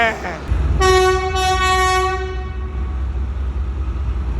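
Pakistan Railways locomotive at an engine shed sounds a loud, sustained multi-tone horn blast over a deep rumbling diesel engine, the horn fading after a couple of seconds while the engine keeps droning.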